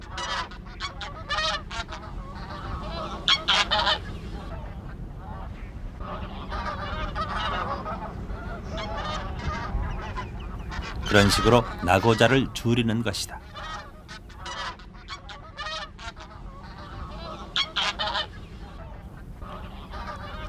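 Migratory geese fly in V formation over the Nakdong River delta; their repeated honking calls sound at mid-distance throughout beneath a narrating voice, with a louder, denser burst of honks near the middle.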